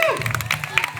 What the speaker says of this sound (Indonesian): Tepuk tangan dong yang bisa baca.